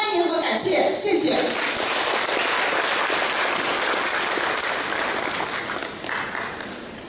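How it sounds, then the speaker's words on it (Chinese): Sustained audience applause fills a conference hall, loud and dense at first and then gradually thinning toward the end, with no voices over it. "我们再次把掌声送给刘会长"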